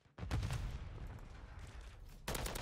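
Holger 556 assault rifle fire in Modern Warfare 3 comes as one sustained automatic burst of rapid, punchy shots, followed after a short pause by another burst, with no talking.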